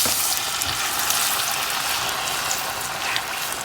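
Plantain slices frying in hot oil give a loud, steady sizzle that fills the air up close, with no voices.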